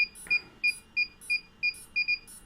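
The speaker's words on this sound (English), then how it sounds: "Oh, I heard the beep there." An electronic device emits repeated short, high-pitched beeps, about eight in steady rhythm, each a brief bright tone, clear and close against a quiet hum.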